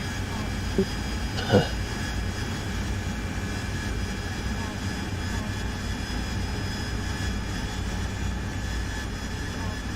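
A plane's engine drones steadily as it flies toward the runway in a flight video game, with a couple of brief thumps near the start and faint talk in the background.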